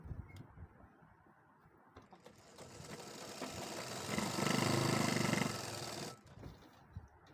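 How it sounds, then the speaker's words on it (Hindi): A sewing machine stitches a heavy-size women's suit, running in a short steady whirring burst that builds up, holds for a couple of seconds and then stops. Fabric handling and soft clicks come before and after it. "अब हमने यहाँ पर एक सिलाई लगा दी है"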